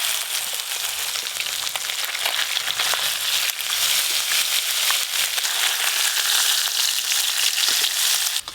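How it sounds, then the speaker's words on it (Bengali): Small fish frying in hot oil in a village kitchen, a loud continuous sizzle and crackle that stays steady throughout with no talking. "বাদ বাকি মাছগুলো সব ভেজে নেব।"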